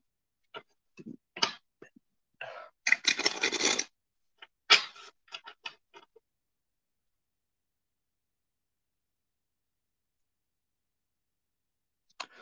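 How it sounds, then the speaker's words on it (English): Game cards being shuffled by hand, a few quick riffling and clicking bursts close by, then a long silence and one faint final tap. "I hope everyone's enjoying watching me shuffle."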